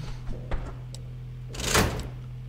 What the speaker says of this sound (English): Any fucking footsteps I hear, I just slam the door down.